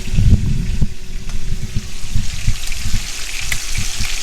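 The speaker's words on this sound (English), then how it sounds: "Look at that frying yummy goodness in there in the skillet, huh?" Pork 7-bone steaks sizzle and crackle steadily in a skillet, loud and close, with scattered pops and spatters and no talking.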